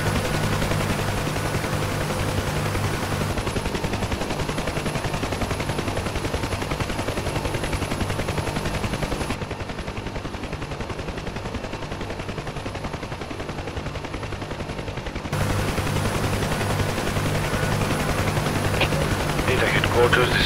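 UH-1H Huey helicopter in the DCS combat flight simulator, its rotor thump and turbine droning steadily throughout with bursts of gunfire mixed in, the level dipping briefly mid-way before the loud cockpit roar returns; voices talk over it.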